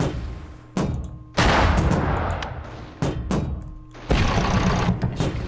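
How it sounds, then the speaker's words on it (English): The main cannon of a T-40 steampunk tank in a 2D game fires in several sharp booming blasts, each followed by a rumbling decay, spaced unevenly, loud and close, with no talking. "I've built it mostly around this main cannon."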